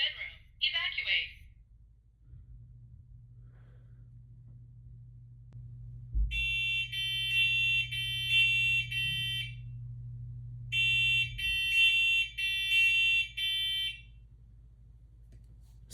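A First Alert smoke alarm sounds during a test with two long bursts of loud, high repeating beeps, each a series of pulsed tones. A steady low hum runs underneath, and brief voice-like sounds come at the start.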